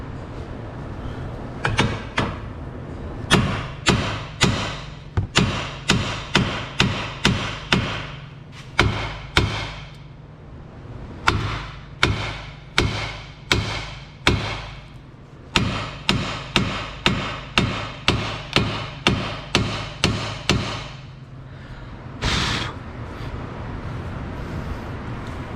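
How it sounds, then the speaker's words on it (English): Dozens of sharp, loud metallic hammer blows strike the lower control arm of a Ford Fusion to split it from the ball joint, coming in quick bursts of several hits separated by short pauses, with no talking. "We're going to hammer down on this lower control arm to separate it from the lower ball joint"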